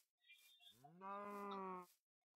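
A Minecraft cow gives one long, loud, clear moo lasting close to a second, preceded by softer game sounds, and then silence.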